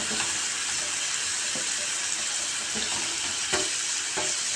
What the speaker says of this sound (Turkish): Pırasalarımı güzelce kavuruyorum.